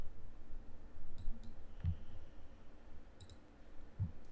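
Computer mouse clicks during 3D material editing, a few sharp, faint clicks spaced irregularly, including a quick pair near the start and another pair later, in a quiet room with no talking.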